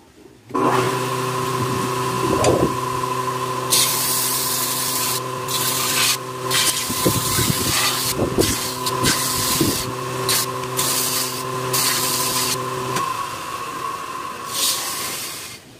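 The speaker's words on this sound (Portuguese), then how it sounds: "Nessa lixadeira aqui ela demora muito porque ela é ela é lenta, esse motor é lento" An electric sander with a slow motor whirs with a steady motorized hum while grinding and rubbing against a metal knife blade in uneven scraping strokes, then winds down.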